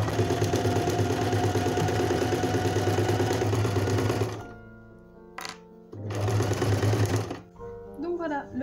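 A sewing machine stitches around the edge of a fabric baby bib, a fast, loud, even whir that runs continuously, stops, then restarts briefly before halting again.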